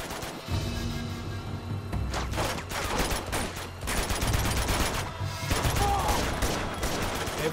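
Dense, continuous gunfire from Uncharted 2, with bursts of shots and heavy booms rolling over one another for several seconds at steady loudness.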